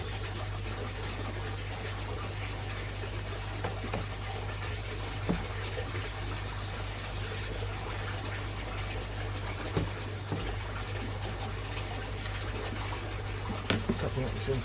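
Fresh water flows steadily into a fish tank, a continuous close rushing and bubbling with a low hum underneath and occasional small clicks, with a voice speaking over it.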